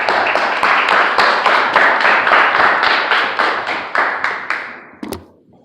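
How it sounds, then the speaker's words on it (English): Audience applause at a Toastmasters talk for young ladies, a clear steady burst of many hands clapping close by that fades out over several seconds with a final few claps. "Next round of applause."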